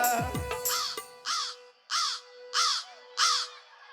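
A crow caws loudly and close by, giving five or six harsh calls in a slow, evenly spaced series, alone with no talk.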